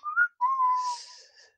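A person whistles a short, annoying melody while walking, imitating a barbarian character in a tabletop role-playing game. A brief rising note is followed by a longer sustained phrase, faint and alone with no talking.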